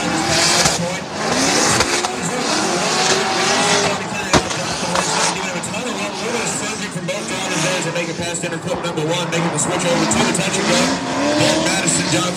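Drift race cars battling in a semi-final run, engines roaring loudly and tires squealing continuously as they slide side by side on asphalt, with a commentator talking over the noise throughout.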